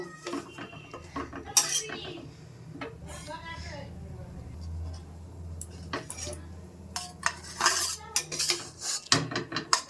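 A pot of cooked greens is taken off the stove with metal clanks, lid rattles and utensil clatter, loud and close in bursts, while a person talks throughout.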